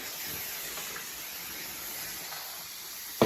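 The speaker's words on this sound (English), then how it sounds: "as you can see, we are steaming the floor" A PurSteam 10-in-1 steam mop steams a floor, giving a steady, close, soft hiss throughout that ends in a brief louder burst at the end.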